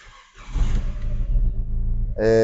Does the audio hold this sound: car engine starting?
yes